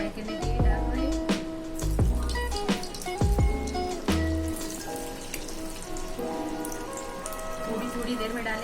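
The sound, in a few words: veg Manchurian balls sizzling as they fry in hot oil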